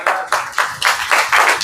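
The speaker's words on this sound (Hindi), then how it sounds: "एक बार तालियां बनती है भाई साहब।" An audience at a business event claps together in a brief burst of rhythmic, fairly loud applause that swells in regular pulses.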